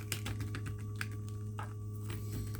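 Lenormand oracle cards are spread out across a table in a quick flurry of light clicks and soft taps, faint and close, over a constant low electrical hum.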